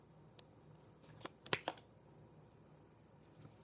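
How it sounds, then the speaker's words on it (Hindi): Tarot cards are shuffled and drawn, with a few quiet papery riffles and two quick snaps close together near the middle and soft handling sounds around them, no talk. "मैं 3 कार्ड्स निकालूंगी"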